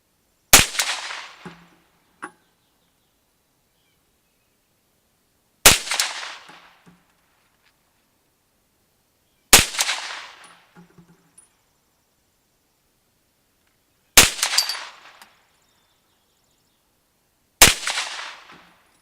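Five sharp, loud gunshots from a CZ Scorpion Evo, spaced several seconds apart. Each crack is followed by a brief decaying echo, with near silence between the shots.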